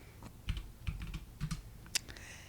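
Keys pressed on a computer keyboard in a quiet room, a few soft, separate clicks and taps at an uneven pace with one sharper keystroke near the end, close by.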